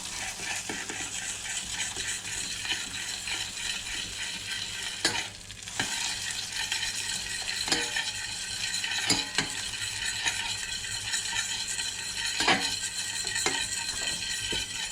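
Butter and sugar are stirred into caramel in a pan. A spoon scrapes steadily against the pan for a long stretch over a continuous bubbling sizzle, with occasional clinks and no talking.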